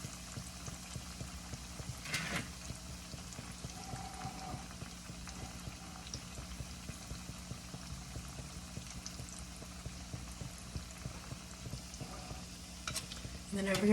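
Chicken cutlets fry steadily in a pan, a continuous low sizzle and crackle with scattered pops and a brief clatter, no talk over it.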